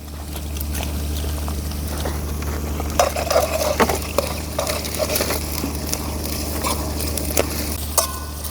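Chopped tomatoes added to frying onions in a pan and stirred, a continuous soft sizzle with scattered scraping and clinks of a spoon against the pan over a low steady hum.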